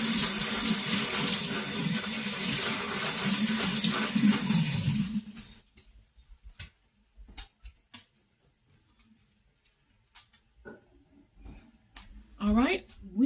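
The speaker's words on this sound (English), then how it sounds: "So let me wash my hands really quick." Hands being washed under a running kitchen tap while cooking meat, a steady close stream of water for several seconds, then sparse drips and small clatters after it shuts off.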